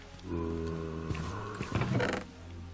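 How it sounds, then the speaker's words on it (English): A Minecraft zombie groans in a modded Minecraft 1.12.2 game, a low, drawn-out moaning growl with a rougher swell near the end, moderately loud against quiet background. "I hear a zombie."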